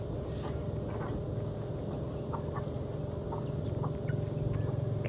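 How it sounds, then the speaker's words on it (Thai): Chickens cluck in a rural outdoor setting near mountains, short soft calls scattered over a steady low background hum, with no voices. "ไก่"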